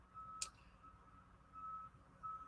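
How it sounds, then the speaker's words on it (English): A truck's backup beeper sounds in three steady tones, separated by gaps, over low engine rumble and distant traffic, with a brief sharp click near the start. "Backup beepers. Y'all hear that? Oh, these trucks and these backup beepers these days."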